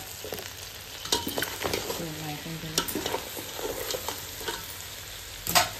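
Goat head curry being stirred in a pan, a steady low sizzle broken by repeated close scrapes and clacks of a spoon against the metal, including a sharp knock at the end.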